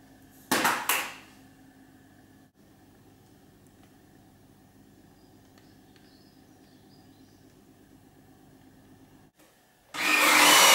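A Gtech Pro cordless bagged vacuum roars briefly and cuts off. A long quiet hum follows, and then the motor starts up again loudly and keeps running.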